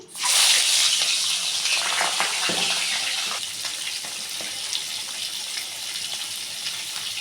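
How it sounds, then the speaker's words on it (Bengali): Vegetables fry in a small kadai (wok) while making muri ghonto, a loud hissing sizzle that starts abruptly, then settles into a steady, softer crackle for several seconds. "সবজিগুলো ভেজে নিচ্ছি"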